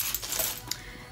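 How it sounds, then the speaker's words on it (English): Keys jingling inside a bag, a couple of light metallic clinks and rattles, brief and fairly quiet with no talking. "I have my keys"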